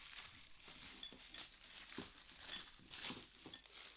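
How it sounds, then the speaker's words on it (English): Plastic bags cut and pulled off an Argos Home Rayner industrial floor lamp, a quiet, continuous close crinkling and rustling with small tearing bursts and no voices. "I will cut the plastic bags off"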